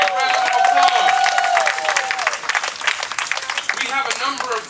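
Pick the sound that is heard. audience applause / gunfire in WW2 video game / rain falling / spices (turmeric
audience applause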